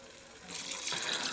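Water is poured into a pot of rice being prepared for a rice bath, a soft trickle swelling into a fuller gushing splash over about a second, faint and without talking.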